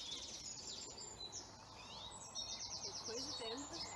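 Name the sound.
song thrush singing a repeated phrase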